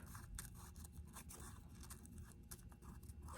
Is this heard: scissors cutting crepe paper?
yes